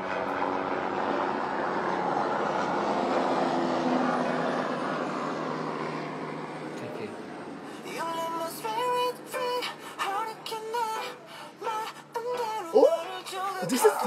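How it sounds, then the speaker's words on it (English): A helicopter's broad droning roar hangs overhead for several seconds, then fades away as scattered clicks and nearby sounds take over. "Oh my god, there's a helicopter there. I hate helicopters, especially the sounds."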